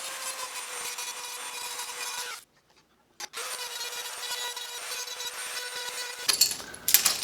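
A tiny 3/32-inch rotary burr grinds on a century-old metal doorbell with a close, high-pitched whirring rasp. It stops abruptly for about a second, resumes steadily, then ends in a few scratchy clicks.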